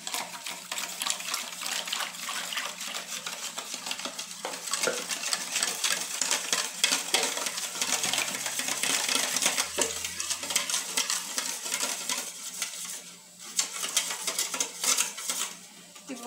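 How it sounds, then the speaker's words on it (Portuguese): Flour being gradually stirred into homemade bread dough with salt and milk, a steady close scraping and mixing texture with light clinks of utensil against bowl, continuous with brief pauses and no talk. "Vou ir adicionando e misturando aos poucos, né, a farinha"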